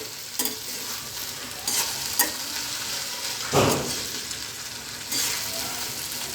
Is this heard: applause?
no